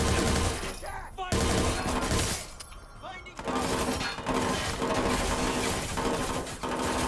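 Gunfire and shattering glass in the video game Watch Dogs 2, loud sustained bursts that drop out briefly and then resume, while a player speaks over the game.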